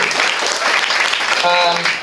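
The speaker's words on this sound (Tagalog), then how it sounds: "palakpakan natin si Kuya Aljon, yan" Audience applause at a church gathering, dense broadband clapping filling the clip at a steady loud level, with a sustained keyboard tone briefly audible near the end.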